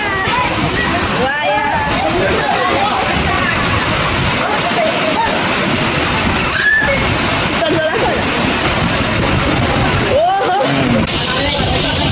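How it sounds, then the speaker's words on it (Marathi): A river in flood after heavy rain, its water rushing and sloshing in a loud, continuous roar with occasional splashes of waves, steady throughout. "आणि खूप म्हणजे खूपच पाणी आलं नदीला"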